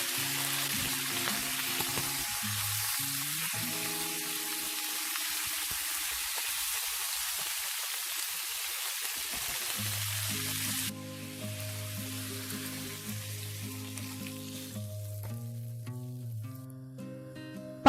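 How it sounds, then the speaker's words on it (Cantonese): Ginger sizzles steadily in a hot wok with oil, a loud continuous frying hiss, then Shaoxing wine goes in and the sizzle drops to a softer, bubbling fry under quiet background music. "薑，再爆一爆， 蘸入1湯匙嘅紹酒，"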